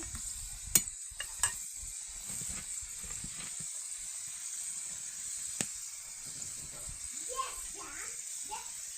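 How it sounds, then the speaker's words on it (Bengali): Pitha frying in a pan gives a quiet, continuous sizzle with occasional sharp clinks and scrapes as pieces are turned over, and a voice talks over it. "এইভাবে ওলট পালট করে ভালো করে ভেজে নিতেছি।"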